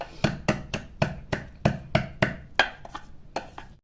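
Green chillies and garlic pounded into thecha with a pestle give a steady series of about a dozen sharp, close, evenly spaced thuds, loud and alone.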